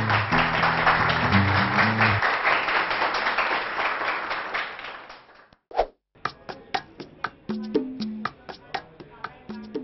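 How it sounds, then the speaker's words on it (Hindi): Children in a school setting clap in a scattered burst of sharp, separate claps, following a brief tonal passage and a stretch of broad noise, fairly close and moderately loud. "तालियां"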